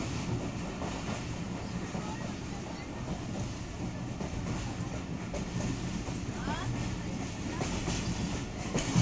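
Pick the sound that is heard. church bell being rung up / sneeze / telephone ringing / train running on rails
train running on rails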